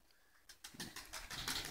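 A stray pigeon coos near a racing pigeon loft, giving soft repeated throaty pulses that grow slightly louder, with faint rustling or wing sounds nearby and no speech.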